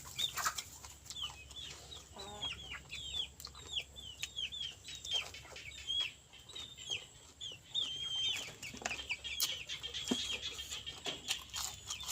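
Farm chickens cluck and chirp in a steady, busy chorus of short calls close by, with soft rustling underneath and no speech.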